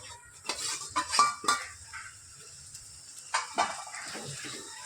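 Boiled potatoes and green peas go into a pan of masala with several clattering metal scrapes and spoon knocks, some in a quick cluster, over a faint background sizzle.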